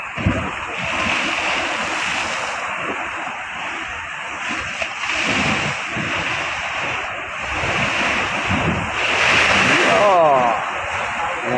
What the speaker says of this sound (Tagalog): Yan po yung alon.